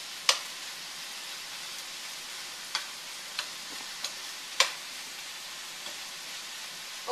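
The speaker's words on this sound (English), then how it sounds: "You might want to cook flipping the chicken every 2 or 3 minutes so that you make sure that every single piece is browned evenly" Chicken pieces browning in a frying pan give a steady, soft sizzle broken by a few sharp pops and ticks of spattering fat, with no one talking.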